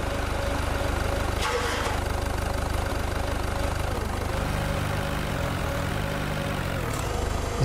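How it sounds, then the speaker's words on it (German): Loud vehicle engines idle and rumble continuously in the Beer Factory video game, a dense mechanical drone filling the whole stretch with a brief rising whine partway through and no talking. "Kann ich die Motoren irgendwie leiser machen?"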